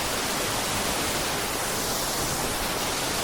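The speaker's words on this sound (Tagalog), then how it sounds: "Ito na yung Balagbag Falls, oh." Balagbag Falls, a waterfall in the Sierra Madre at Real, Quezon, pours with a loud, dense, unbroken roar heard close up, with no voices over it.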